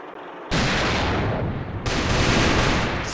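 A PGM sniper rifle fires in the first-person shooter Alliance of Valiant Arms, heard as a sudden loud broadband shot with a sustained tail and a second blast following about a second later, no voices.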